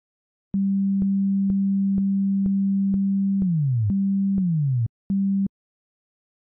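A pure sine-like tone layered from two synthesizers plays a simple sequence of evenly pulsed notes, mostly one pitch with a couple of downward pitch glides, then stops.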